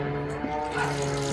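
Water pours steadily from a container into the soil of a potted moringa plant, a continuous close splashing trickle heard alone.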